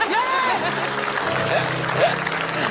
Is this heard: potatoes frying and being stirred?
no